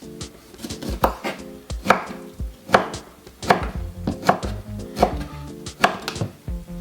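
A knife cuts a lemon against a cutting board in a quick, uneven series of sharp taps, close and clear with no talking.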